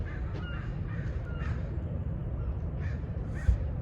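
Crows being fed outdoors caw repeatedly in short, harsh calls scattered over a steady background rumble. Several birds sound off at moderate distance, with a small thump near the end.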